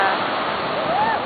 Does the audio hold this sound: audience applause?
no